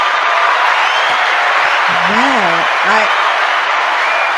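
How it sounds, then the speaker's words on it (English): Audience applause at a men's panel discussion, a dense, loud, continuous wash of clapping throughout, with a voice briefly calling out over it. "can we get a clap for that?"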